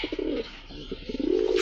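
A pigeon at a pigeon market cooing close by in a few soft, low, rolling coos, with a faint background noise at the end.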